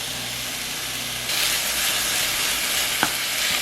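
Minced meat, three cups, hitting a lightly heated pan: a steady broadband sizzle that jumps louder as the meat goes in, with one sharp click from a utensil near the end, no talk.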